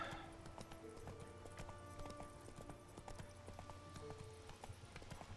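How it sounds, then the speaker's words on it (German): Horse galloping in The Witcher 3 video game, a steady rhythmic clatter of hooves running continuously, quiet and even throughout. "Beim Sprinten mit dem Pferd."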